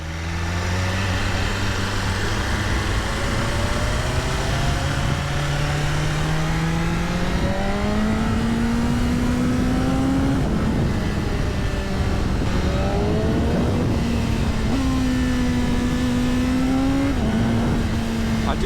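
A 2025 BMW S1000RR M Sport motorcycle engine pulls hard on an open road, its pitch climbing steadily through repeated gear changes, loud and continuous under wind noise, held below full revs by a break-in limiter.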